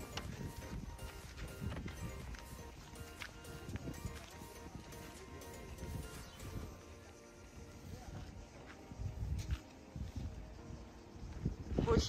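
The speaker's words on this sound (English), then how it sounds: "Horses." Horses walk along a street at Sovereign Hill, a heritage township in Ballarat, Victoria, Australia, their hooves clip-clopping at a moderate distance amid crowd noise and people talking.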